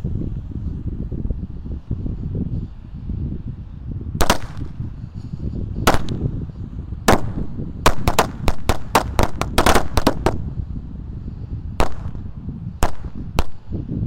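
A rapid, irregular string of sharp bangs from a pack of firecrackers pops over rumbling background noise, clustering into a dense burst before trailing off; no voices.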